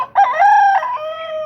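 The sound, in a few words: hen crowing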